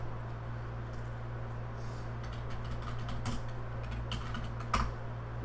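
Typing on a computer keyboard during a programming session, a steady patter of soft key clicks with a few sharper taps, close and quiet over a constant low hum, no talk.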